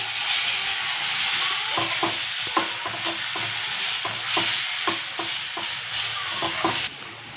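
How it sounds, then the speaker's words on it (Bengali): Chopped onion and onion paste frying in a pan, a steady loud sizzle broken by repeated scraping stirs of a spoon against the pan, close up with no voices. "এই পেঁয়াজটা ভাজা হয়েছে, কড়া ভাজা দিইনি, অল্প ভাজা দিয়েছি।"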